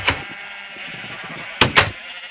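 Sheep bleating in Minecraft, one short bleat at the start and then two quick bleats in succession near the end, clear and close over a quiet background.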